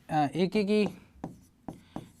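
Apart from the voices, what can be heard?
writing a condition down during a maths lesson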